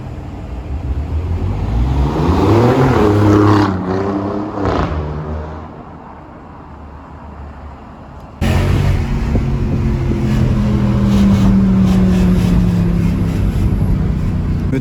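A McLaren Senna LM sports car drives along a Paris street, its engine building to a loud rising rev that fades as it passes, followed by steady traffic rumble nearby.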